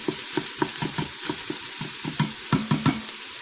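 Onion softens in sizzling pork grease while a spoon stirs it in quick, rhythmic scrapes and taps over a constant frying hiss.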